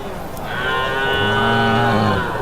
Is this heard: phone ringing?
no